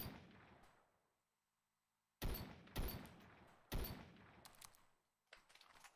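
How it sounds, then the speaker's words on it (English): Several booming explosions go off in Minecraft, a fading rumble followed by a series of sharp heavy blasts with decaying tails, loud and close-sounding, with no talk. "I don't like hearing explosions off in the distance."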